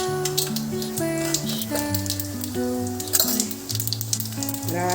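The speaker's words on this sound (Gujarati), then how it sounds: "અહીંયા આપણે તેલ મૂકી દીધું છે અને હવે એમાં આપણે વઘાર કરશું ઢોકળીનો." Oil sizzles and crackles in a pan as spices are tempered for a Kathiyawadi dhokli curry, a steady frying hiss running under louder melodic background music.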